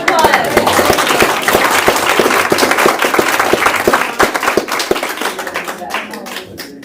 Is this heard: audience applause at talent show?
yes